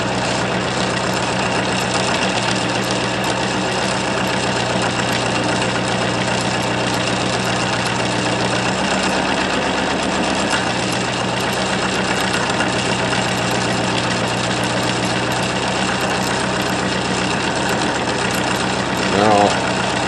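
A homemade pulse motor tuned with a potentiometer runs steadily, giving a loud continuous whirring drone with a regular pulsing, knocking rhythm at constant speed, a brief thump near the end.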